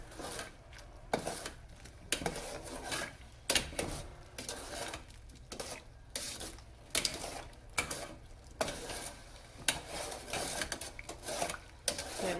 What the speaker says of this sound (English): you can hear like the grains scraping across the bottom of the pot